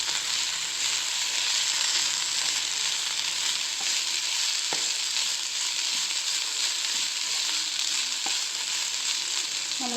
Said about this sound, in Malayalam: നമുക്കിനി സബോള ചേർക്കാം. ഇനി നമുക്കിതൊന്ന് ഇളക്കി കൊടുക്കാം.